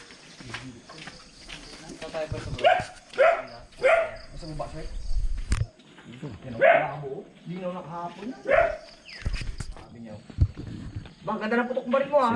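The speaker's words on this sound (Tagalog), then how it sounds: "Ang daming aso ah." Many dogs bark and yip in short, irregular bursts at a rural hut, some near and some farther off, mixed with people talking.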